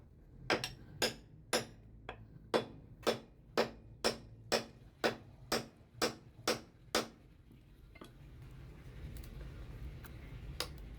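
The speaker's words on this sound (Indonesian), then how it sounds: "kita coba tes mencabut paku yang sudah tertancap habis" A Japanese Mokuba crowbar works at a fully driven nail, giving about fourteen sharp, evenly spaced metallic knocks close up, then a quieter rustling stretch with a couple of faint clicks.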